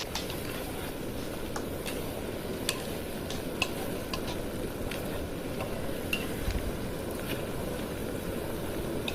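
Pork stir-frying in oil over high heat: a steady, dense sizzle runs throughout, with sparse sharp clicks from a utensil against the pan and no talking.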